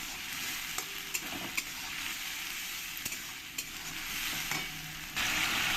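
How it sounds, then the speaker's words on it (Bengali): Tomato paste frying with onions in a pan, a continuous soft sizzle with occasional light stirring taps, fairly quiet, growing louder near the end, with no talk. "টমেটো পেস্টটা দিয়ে পেঁয়াজের সঙ্গে আমি একটু ফ্রাই করে নেবো"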